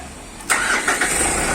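A Mitsubishi Pajero engine cranks and catches after a starter motor repair, a loud sudden start followed by a few revs settling into a steady idle.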